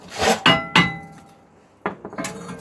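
Three sharp metallic hammer taps on a rusty rear brake disc of an Audi A6 C6, struck close and loud in quick succession, followed by a few lighter knocks and clinks as the part is worked loose.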